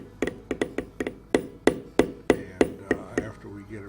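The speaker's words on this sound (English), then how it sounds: "we will use this same figure carving beveler to go around it" A figure carving beveler is tapped along leather while tooling a big-mouth bass design: about a dozen crisp, close taps in a fairly even rhythm, quick at first and then slightly more spaced.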